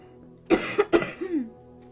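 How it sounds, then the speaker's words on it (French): A woman coughs several times in a quick cluster of three or four sharp, close bursts, followed by a short throaty trailing sound in a quiet room. "je vais encore tousser"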